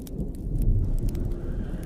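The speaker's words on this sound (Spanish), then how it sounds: "Sentí que afuera llovía con mucha intensidad. El ruido era bastante fuerte" Heavy rain pours through a thunderstorm, with a deep low rumble under a steady hiss of falling water, fairly loud and continuous, with no voices.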